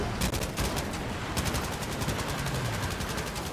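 Rapid bursts of automatic gunfire in the World War II shooter game Battlefield V, dense repeated shots that continue loud and steady throughout with no voices.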